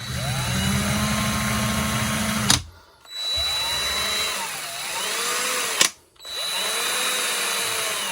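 Parkside PABS 20-Li E6 20V 45Nm cordless drill driver, whose chuck is slightly bent, running in steady loud whining bursts that stop briefly twice, with its motor pitch rising and dipping.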